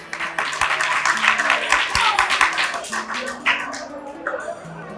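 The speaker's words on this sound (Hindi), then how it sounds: "प्रार्थना विजय के लिए तालियां होनी चाहिए।" Audience clapping at the opening ceremony of a gurukul at a temple, dense applause rising and thinning over several seconds with voices mixed in.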